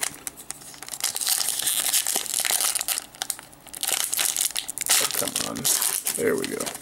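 A Pokemon booster pack's foil wrapper crinkles and tears open in close, loud bursts of rustling, with a short pause partway through and no talking.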